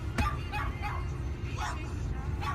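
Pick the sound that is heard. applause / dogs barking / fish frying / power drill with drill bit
dogs barking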